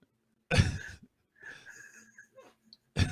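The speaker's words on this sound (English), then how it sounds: "I apologize to everybody out there in listening land that I coughed." A single person's cough lands close and loud, then a short stretch of wheezy, raspy breathing follows and a second cough breaks in at the very end.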